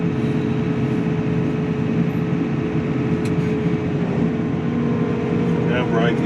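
A four-wheel-drive vehicle in full drive with the diff lock engaged idles and strains in a low gear, a steady loud low engine drone throughout with a faint talking voice over it.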